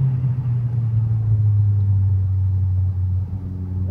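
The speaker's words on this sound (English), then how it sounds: "when I really push the throttle to the mat" Skoda Octavia RS engine pulling under full throttle from inside the car: a loud, steady low rumble that holds on, then dips slightly and shifts pitch near the end.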